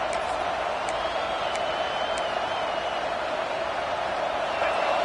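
Football stadium crowd at a Penn State versus Tennessee game on a fourth down, a sustained, dense roar of cheering that stays at an even level throughout.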